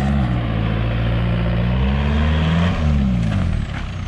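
A Volkswagen Golf 3 GT with a 110 hp engine, in tired condition, accelerates with a steady, loud drone that climbs gradually in pitch, with a slight shift near the end.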